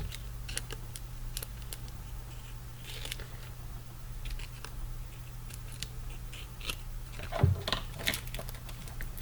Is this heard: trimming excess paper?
yes